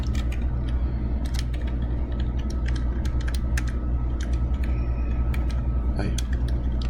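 Computer keyboard typing and clicking during a math worksheet lesson, quick irregular key taps scattered over a steady background hum and a low mechanical drone, fairly close and moderately loud.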